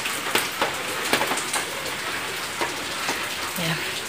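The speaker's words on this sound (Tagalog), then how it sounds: "Ah, umuulan!" Rain falling steadily outdoors, a constant wash of hiss with scattered close drops tapping on a surface, moderately loud, with a faint voice briefly in the background.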